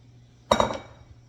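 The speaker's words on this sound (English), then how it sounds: "Just scoop out whatever dough is left in the glass bowl" Sourdough dough is scooped from a glass bowl, producing one sharp clink of utensil against glass followed by a brief ringing tail and quiet handling, with no one talking.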